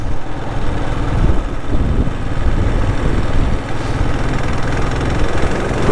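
A motorcycle engine running smoothly at a steady idle-like rumble, a continuous low, even throb with slight fluctuations, close and fairly loud with no voices.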